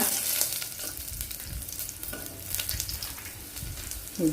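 Mustard seeds and cumin sizzle and crackle in hot oil, a steady frying hiss with scattered sharp pops and occasional stirring scrapes, close and continuous with no talking.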